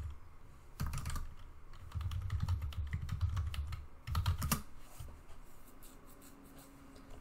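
Username and password being typed on a computer keyboard, quiet clustered key clicks in irregular bursts with short pauses between, close and alone.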